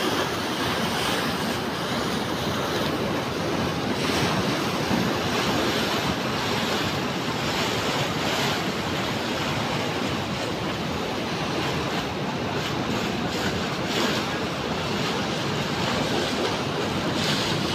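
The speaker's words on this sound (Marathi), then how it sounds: "हे समुद्रामध्ये जेवढ्या लाटा येत नाहीत तेवढ्या प्रकारे ह्या लाटा खूप मोठ्या स्पीडने धावत आहेत." Fast-rushing floodwater from three merging rivers surges toward Majalgaon dam, a loud, steady roar of churning waves and splashing water with wind buffeting the microphone throughout, no voices.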